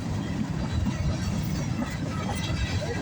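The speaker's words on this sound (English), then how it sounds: "Northbound CSX." A northbound CSX freight train rolls past close by, a steady broadband roar with low rumble filling the whole stretch and no clear breaks.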